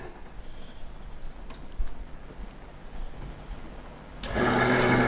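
A Maksindo noodle-making machine switches on after a stretch of quiet room noise with faint knocks, then runs as a loud, steady mechanical hum and whir for the final second.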